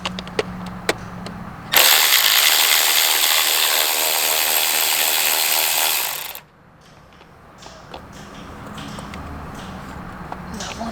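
A power tool whirs loudly and steadily for about four seconds while undoing the coil pack bolts on a 2015 Dodge Charger, then it cuts off. Faint clicks and handling noises are heard before and after.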